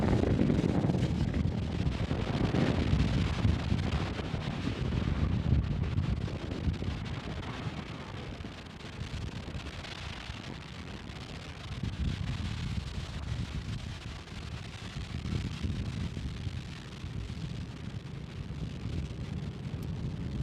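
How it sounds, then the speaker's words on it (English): A SpaceX Falcon 9 rocket carrying a Cygnus spacecraft lifts off from Space Launch Complex 40, a distant, sustained broadband roar and rumble that swells and eases slightly over about twenty seconds, with buffeting wind noise. "Falcon 9 and Cygnus take flight."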